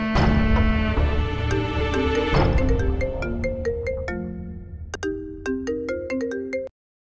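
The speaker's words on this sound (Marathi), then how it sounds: "एवढा फोन उचलते" A mobile phone ringtone plays loudly indoors, a bright electronic melody of rising and falling notes that rings for several seconds before cutting off abruptly.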